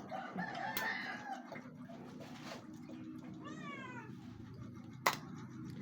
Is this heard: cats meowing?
yes